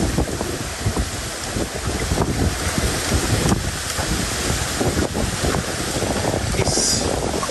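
Strong wind buffets the microphone on a small boat out crabbing, a steady, loud roar, with water sloshing and splashing beneath it throughout.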